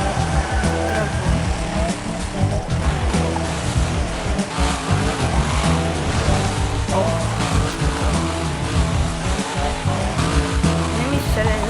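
Racing cars roar and squeal their tires in the mobile driving game Hill Dash, a dense, continuous engine drone with squealing running throughout beneath a person talking.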